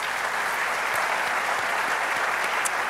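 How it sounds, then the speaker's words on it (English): At an inaugural lecture, an audience gives a professor a short round of applause, a brief burst of many hands clapping together at moderate volume without talk. "Does he deserve a big round of applause?"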